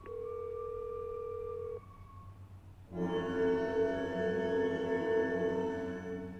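A steady tone cuts off, followed by a warbling electronic telephone ring that continues at moderate loudness with a low hum underneath.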